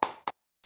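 Children clap two quick beats in the 'tepuk semangat' routine, sharp and close, with a third clap starting as it ends.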